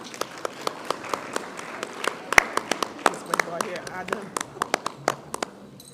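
Audience applause for a primary school mental maths competition team and their teacher, a steady crowd clapping with sharp individual claps standing out, moderately loud and sustained throughout.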